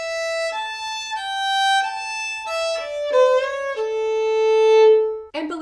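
Fiddle playing a phrase of the old-time reel Cluck Old Hen, clear sustained bowed notes stepping through the melody with a sliding second-finger note near the end, alone and close.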